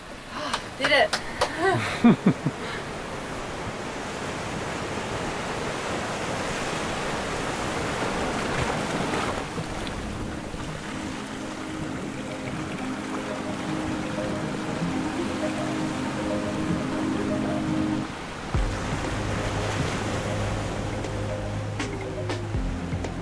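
Wind and a following sea rush and surge around a small sailing boat on the Great Australian Bight, a loud continuous broadband roar of water and gusts, with a low steady drone joining partway through.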